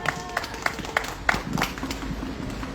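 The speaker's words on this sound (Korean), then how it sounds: "우리 박승민 위원장님께 다시 한번 박수 부탁드리겠습니다" Audience at a candlelight rally in Gimcheon clapping, a few sharp distinct claps standing out early before thinning into softer, scattered clapping, with faint crowd murmur underneath.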